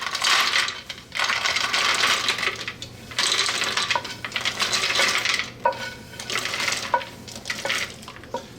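Roasted, oil-sheened peanuts spooned into a food processor with a metal blade, giving continuous rattling, clinking clatter close up, with brighter metallic taps toward the end and no talking.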